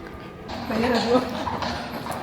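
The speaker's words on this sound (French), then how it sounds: "Et là, on a des chevaux qui passent" Horses passing along a narrow old-town street beside a church, hooves clip-clopping at a walking pace, fairly close, under people talking.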